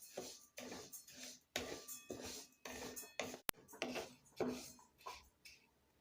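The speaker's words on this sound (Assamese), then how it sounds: "গেছটো হাই ফ্লেমত থৈ ভালকৈ লাৰি লাৰি ভাজি ল'ম।" A spoon scrapes and clinks rhythmically against a pan as moong dal is stirred and dry-roasted over a high gas flame, close and fairly quiet, in repeated strokes with one sharp knock midway.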